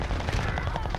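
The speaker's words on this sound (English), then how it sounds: "there's someone on my left or my right shooting me too" Rapid automatic gunfire from the shooter game Warzone Pacific, a dense, loud burst of overlapping shots filling the full second without pause.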